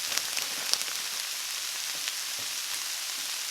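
Raw cauliflower rice fries in a pan for chicken and cauliflower fried rice, giving a steady, close sizzle with soft crackles and a few sharper pops, alone with no voices.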